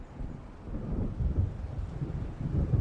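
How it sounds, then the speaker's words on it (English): Deep rumbling thunder from an approaching storm in the game Alan Wake, low and rolling, swelling in surges with wind-like noise, fairly loud and with no voices. "It seems there's a storm coming."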